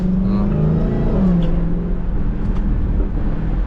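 Dodge Charger Hellcat driven in the rain, its engine revving hard with exhaust pops and crackles heard from inside the car, with brief talk from the driver over the engine noise.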